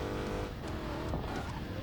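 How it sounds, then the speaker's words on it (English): Engine roar of a modified Dodge Challenger SRT Hellcat in the Racing Master mobile game, a steady loud drone with shifting revs and faint tire noise underneath. "I love the engine sounds in this game"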